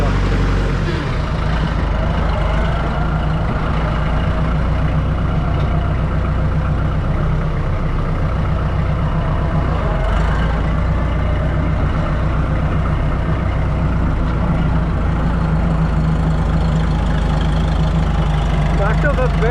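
Tractor engine running steadily in high gear, a loud, continuous mid-pitched rumble with a knocking edge that fills the whole stretch without pause.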